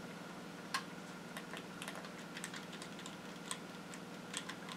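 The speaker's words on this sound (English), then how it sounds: "All of the buttons are very clicky." Crisp little clicks from the buttons of a Nintendo Switch, pressed several times in an irregular run, close and fairly quiet over a faint steady background hum.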